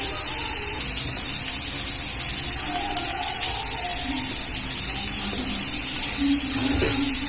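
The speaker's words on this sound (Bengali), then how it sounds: "এবারে ভালো করে নাড়াচাড়া করে ভেজে নেব" Capsicum and grated carrot stir-fry in a pan with a loud, constant hissing sizzle, and a few soft stirring knocks come near the end.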